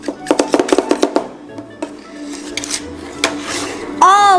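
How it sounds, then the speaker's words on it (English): Homemade candy cane ice cream being chopped on a hard surface, with a fast run of sharp knocks and scraping taps, followed by looser clatter and faint talk nearby. "We gotta chop it a lot more though, right? Yep. So keep chopping."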